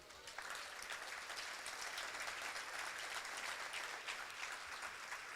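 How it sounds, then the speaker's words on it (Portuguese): A church congregation claps together in sustained, even applause, a dense patter of many hands heard from within the hall. "Vamos aplaudir ao Senhor?"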